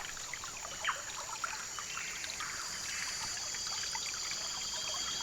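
Gentle river water trickles and dribbles steadily during a riverside bathing ritual with flower essences in the jungle, a soft continuous flow with a few small splashes early on, heard alone without talk.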